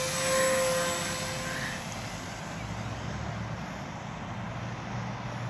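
A radio-controlled model airplane makes a short hop, its motor a steady drone that is loudest at the start and then drops and fades slightly as it flies off.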